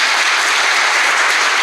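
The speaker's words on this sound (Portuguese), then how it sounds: "Uma salva de palmas para Nossa Senhora." A dense burst of loud audience applause at a Catholic consecration talk, a continuous close wash of clapping lasting under two seconds with no voices.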